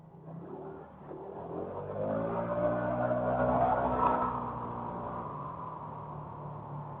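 A car passes close by a motorcycle ride in Taiwan, its engine rising in pitch and loudness to a peak around the pass, then fading under steady wind and motor noise.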